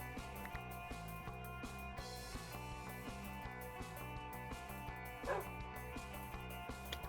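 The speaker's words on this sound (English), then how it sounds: "Oh, there's a dog here. It's a wolf." A wolf in Minecraft gives a few short yips and whimpers over steady, rhythmic game music, with one brief louder burst partway through.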